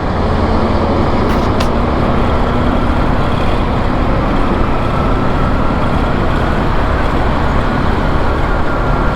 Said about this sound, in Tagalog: Matraffic talaga dito.